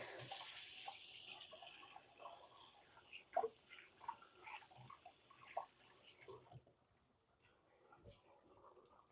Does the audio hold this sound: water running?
yes